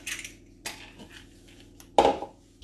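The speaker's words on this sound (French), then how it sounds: "Je mélange avec ma cuillère magique." A spoon scrapes and clinks around a bowl while a mayonnaise base is mixed, giving a few scattered metallic taps and one sharper clatter near the end, close and moderately loud with no talking.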